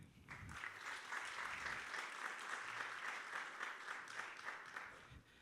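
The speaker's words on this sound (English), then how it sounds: "Give a round of applause for the CEO and founder of Quo, David Keane." A conference crowd at a hospitality industry event claps for a CEO and founder, steady applause at moderate distance that swells and holds for several seconds without voices over it.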